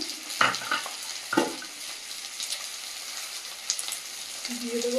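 Onion fries in oil in a pan before shrimp goes in, giving a continuous sizzle with two louder scraping stirs early on and lighter clatter later, close and without speech.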